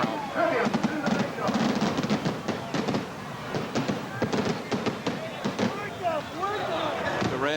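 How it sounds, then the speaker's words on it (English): Fireworks bursting outside Caesars Palace after a boxing match, a dense run of sharp pops and thuds through the whole stretch under loud crowd noise and commentary. "And there go the Caesar's Palace fireworks in the background."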